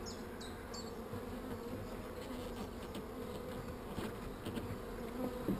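Honey bees buzz steadily around an open hive, a continuous close droning hum with occasional individual bees passing near, no talking.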